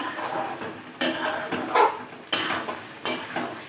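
Chicken pieces frying in a pan with butter masala, a sizzling hiss broken by several loud stirring bursts and utensil scrapes at irregular intervals, close and without talk.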